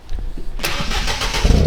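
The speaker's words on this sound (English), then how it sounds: "this will be the first fire up of the Fiesta ST after we're done here with the exhaust" A Ford Fiesta ST with a thermal exhaust, likely a 3-inch system, cranks briefly and then fires up into a loud, steady idle with a raspy, broadband exhaust note.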